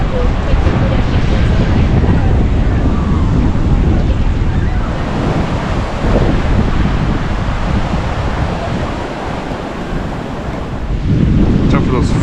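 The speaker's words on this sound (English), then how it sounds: "Watch out for those freak waves." Ocean surf at Manly Beach in Sydney, Australia, roars loud and constant throughout, with heavy wind buffeting the microphone and swelling again near the end.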